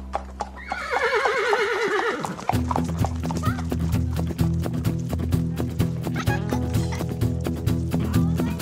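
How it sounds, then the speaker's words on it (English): Horses whinny loudly in a long, wavering neigh, then galloping hooves take over in a steady, close rhythmic clatter through the countryside. "Horses galloping through the countryside."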